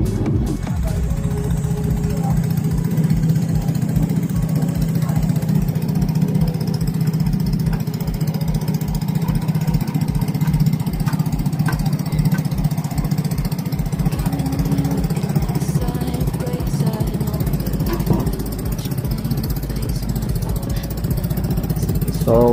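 Vespa Prima SE scooter engine running steadily after a Polini variator upgrade, a continuous low mechanical drone with a pulsing rhythm that changes character near the end, close and moderately loud.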